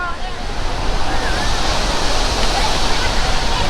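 Water released from the Hemavathi dam at Gorur gushes in a loud, close, unbroken roar like heavy surf, steady throughout with some wind buffeting the microphone.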